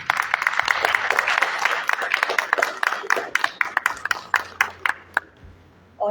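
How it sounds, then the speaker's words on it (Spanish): An audience at the Mendoza book fair applauds to welcome authors. The clapping starts dense and lively, then thins to scattered, separate claps and stops, with a voice coming in right at the end. "Vamos a recibir en esta oportunidad a varios autores con un caluroso y fuerte"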